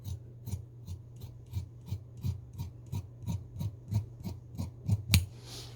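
Scissors snipping small notches into coat fabric while cutting a raglan coat sleeve, a steady series of short rasping cuts about twice a second, close and fairly quiet, with a sharper snip near the end.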